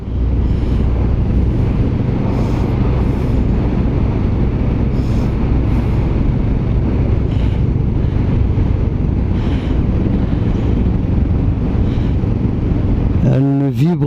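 Riding a 2021 Kawasaki Vulcan S motorcycle, a continuous low engine drone mixed with heavy wind buffeting on the microphone, steady throughout with a short rising sound at the very end.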